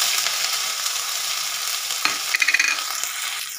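Chopped ginger sizzling in hot oil tempered with mustard seeds and whole cumin, a loud bright hiss steady throughout, with a sharp burst of crackling as it is stirred near the end.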